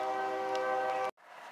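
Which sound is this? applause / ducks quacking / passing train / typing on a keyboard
passing train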